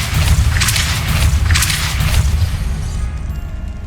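Repeated Depulso force-push spell blasts in Hogwarts Legacy, heavy booming bursts with a broad crackling sweep that swell and fade in succession under a steady low rumble, no talking.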